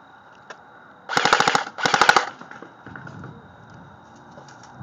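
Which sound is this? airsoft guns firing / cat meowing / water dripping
airsoft guns firing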